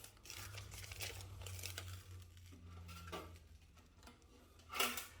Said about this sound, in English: All you have to do is peel and then stick it on the seam